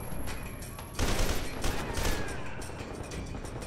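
A frag grenade blast in the shooter game F.E.A.R. 2 erupts suddenly after a second of noisy combat, a loud broadband burst that decays into sustained rumbling din.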